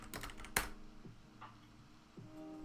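Keystrokes on a computer keyboard during a late-night bug bounty recon session, a brief burst of clicks followed by a few isolated taps over a low steady hum, fairly quiet and with no talking.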